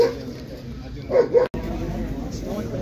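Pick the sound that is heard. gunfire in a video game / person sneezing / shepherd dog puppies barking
shepherd dog puppies barking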